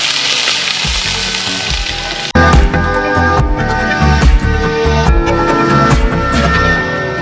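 Crushed garlic and ginger frying in hot oil, a steady loud sizzle with stirring knocks, abruptly louder after a short quieter stretch.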